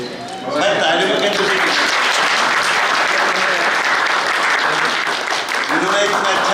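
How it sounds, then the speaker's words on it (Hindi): Office colleagues at a retirement gathering for a telephone company employee burst into loud, close applause right after a brief lull, clapping steadily throughout, with a speaker's voice rising again as it tapers. "चंद्रपाल जी को मैं तालियों में"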